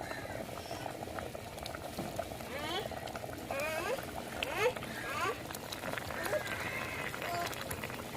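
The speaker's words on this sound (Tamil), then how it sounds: "அவியல் நம்மளுக்கு நல்லாவே கொதிச்சு வந்துருச்சு." Avial stew with cleaned kara fish boils in a pot, a steady close bubbling and popping that keeps up without pause throughout.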